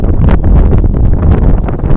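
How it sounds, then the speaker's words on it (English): Strong wind buffets the microphone outdoors on a day of good weather in Georgia, a loud, continuous rumbling gust with rustling texture and no break across the whole stretch. "it's kind of windy out here"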